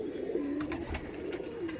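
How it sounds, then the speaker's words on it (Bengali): Aggressive Giribaj pigeons at a pigeon market give a steady, close, low cooing that rises and falls across the whole moment, with no talk over it. "কত অ্যাগ্রেসিভ পায়রা দেখুন"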